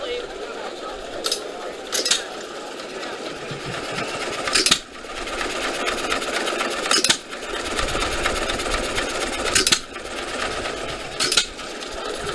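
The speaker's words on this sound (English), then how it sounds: "They're not making ice cream right now, but they do leave the engine running." An old flywheel stationary engine at an ice cream making setup idles with no load, letting out a distinct firing thump every couple of seconds over a constant mechanical whir, with voices in the background.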